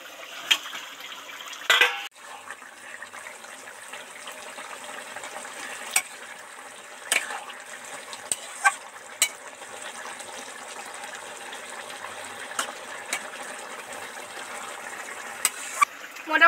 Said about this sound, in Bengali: কিন্তু ভিতরে খুব টুকবুক টুকবুক করে ফুটছে